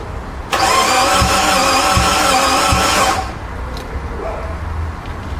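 A car engine cranks after its TPS sensor is plugged back in: a loud, close starter whir with rhythmic pulses for about three seconds, then an uneven, rougher running engine.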